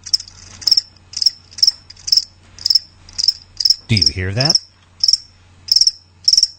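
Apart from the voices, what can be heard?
crickets chirping, sound effect in a web studio radio ad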